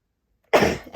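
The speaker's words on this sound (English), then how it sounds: "You're not going to believe this, but I'm going to sneeze." A single loud, sudden sneeze bursts out close to the microphone after a moment of silence.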